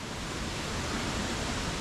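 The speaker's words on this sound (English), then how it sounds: "Listen, the sound of the waterfall song." A waterfall in foggy Nordic mountains, a dense, steady rushing roar that fills the air evenly, with no speech.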